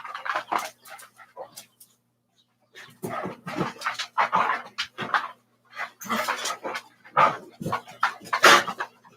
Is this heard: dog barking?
yes